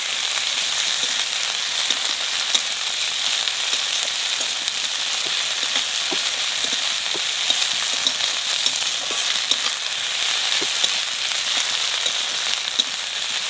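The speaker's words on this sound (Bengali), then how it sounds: "আদা রসুন ভেজে নিছি" Chopped ginger, garlic and green chili fry in a pan, giving a loud, steady, close sizzle that runs without a break, with faint stirring ticks.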